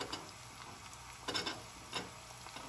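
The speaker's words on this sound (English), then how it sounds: "we're going to go in now with the garlic" Garlic frying in a very hot pan while cooking golden dhal, a steady close sizzle with a couple of louder crackling bursts as the pieces are stirred in.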